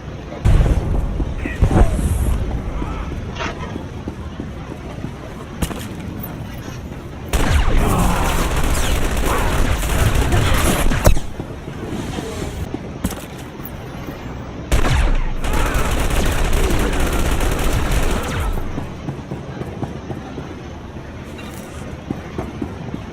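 Gunfire in the Star Wars: The Old Republic video game, dense bursts of blaster-style shots in several loud volleys separated by quieter stretches, with game ambience throughout.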